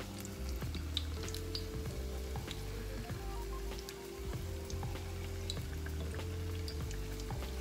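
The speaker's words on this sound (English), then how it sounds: "as you can see, my Oreos are frying." Oreos fry in hot oil with a steady sizzle full of small crackles and pops, close by and continuous, with faint clinks under it.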